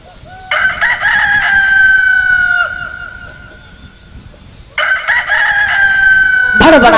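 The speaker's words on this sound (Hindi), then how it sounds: "चंद्रमा मुर्गा बन जाता है, रात्रि के समय बाग लगा दी" Rooster crowing twice, two long loud calls separated by a pause, close and clear with a sharp rustle at the end.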